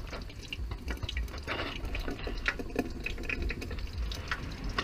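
Hot water from a Fluka stove feeder trickles and drips in a continuous, close splashing flow with small irregular plops, steady and moderately quiet.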